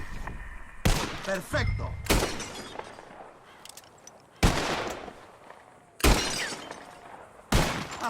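Gunshots in a shooting contest in the video game Red Dead Redemption 2: four loud, sharp broadband cracks spaced a second or two apart, each followed by a decaying echo, with brief talk early on.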